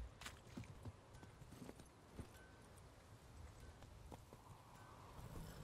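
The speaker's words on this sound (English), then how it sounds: "Alright, so let's summon my horse" Roach the horse gallops in The Witcher 3, a steady rhythmic clip-clop of hooves that stays fairly faint throughout.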